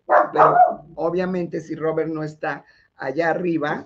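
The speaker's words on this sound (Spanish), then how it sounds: "perdonen los ladridos de la perrita" A small female dog barks and yips in short bursts behind continuous Spanish talk, the barks close by but partly buried under the voices.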